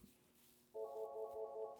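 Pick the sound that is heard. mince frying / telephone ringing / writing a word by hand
telephone ringing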